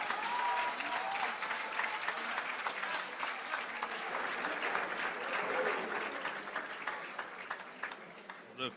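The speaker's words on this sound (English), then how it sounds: "The crowd going absolutely wild at the slightest glimmer of hope" Spectators at the U23 World Squash Championship cheer and applaud steadily after a game-winning drop shot, dense clapping with raised voices filling the whole stretch, loud and close.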